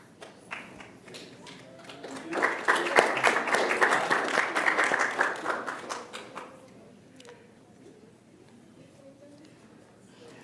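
Audience clapping at an internet governance forum session in Trinidad and Tobago, a modest burst that starts after a quieter stretch, swells for about four seconds of dense hand claps, then thins out into scattered taps and room noise.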